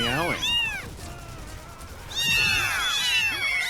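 Cat meowing sound effect from the shooter game Quake Champions: loud, close, drawn-out meows with wavering pitch, one short call at the start and a longer wailing one near the end, a quieter pause between.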